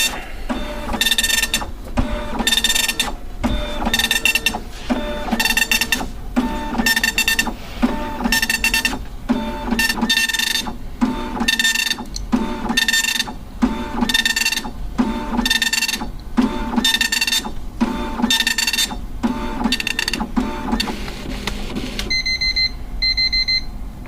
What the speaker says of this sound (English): the sound of that dot matrix printer somehow feels comforting